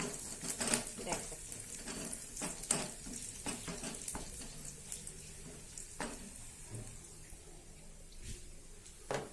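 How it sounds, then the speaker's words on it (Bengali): Eggs fry and are stirred in a pan during home cooking, with scraping spoon clatters and a soft sizzle throughout, plus some faint background noise. "এটা আমি অন্য পদ্ধতিতে ডিম রান্না করব"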